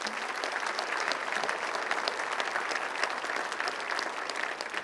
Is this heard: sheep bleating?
no